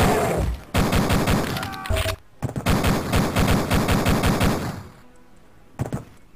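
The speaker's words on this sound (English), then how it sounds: "There's still someone shooting me." Loud automatic gunfire rips through a Duke Nukem Forever firefight in long rapid bursts, broken by a few brief pauses before the shooting resumes.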